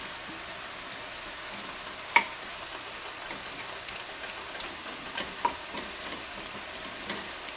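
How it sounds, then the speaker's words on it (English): Chicken pieces fry in a hot pan with a soft, steady sizzle, broken by a few light pops and clicks as the meat browns, quiet and close with no talking. "You can see that the chicken's cooking nicely."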